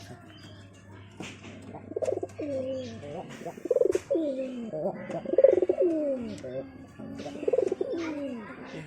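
A black pigeon and a red pigeon kept together for pairing give repeated close, throaty coos in rolling phrases, mixed with a few soft chirps and a brief wing flutter, while a person speaks briefly.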